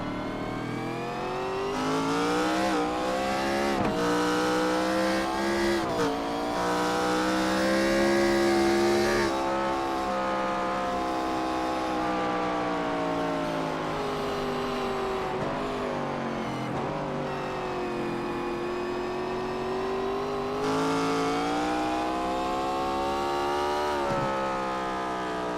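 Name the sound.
race cars racing at Sonoma, braking and accelerating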